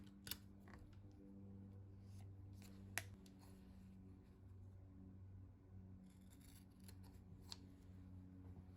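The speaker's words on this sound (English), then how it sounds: "And I'm going to mark a line and then trim it." Scissors trim a fabric strip of quilt binding. There are a few quiet, sharp snips over a faint low hum, with long still gaps between the cuts and no talking.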